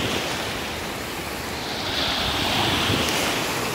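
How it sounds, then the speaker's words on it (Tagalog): Ocean waves wash and surge continuously while wind rushes across the microphone, with no voices present. "Medyo maalon-alon lang ngayon."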